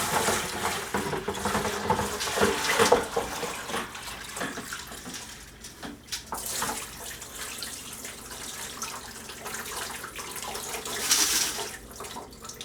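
Tap water pouring and splashing in a sink as it is drained off silver granules during refining, a steady watery rush with gurgling swells, moderately loud and with no talking.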